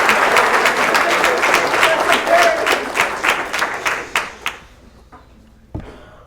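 Audience applause for the honoree at a letter of intent event, lively rhythmic clapping that thins out and fades into a few scattered claps before near silence.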